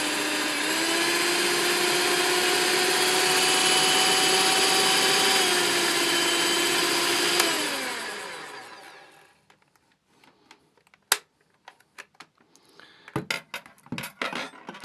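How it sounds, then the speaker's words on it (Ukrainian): A VITEK VT-1405 200 W hand mixer whirs loudly with dough hooks in turbo mode, a steady high motor drone for several seconds that winds down and stops, followed by faint clicks and handling noises. "давайте перевіримо гаки для тугого тіста. І турборежим."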